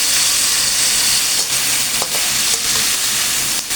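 Mackerel sautéing in a hot pan for sinigang, a steady loud sizzle and frying hiss throughout with a few brief stirring scrapes.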